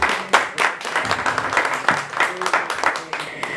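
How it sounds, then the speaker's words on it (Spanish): Audience applause at a quinceañera with a mariachi band, scattered claps and cheers in a moderately loud burst, with voices mixed in. "Fuerte el aplauso."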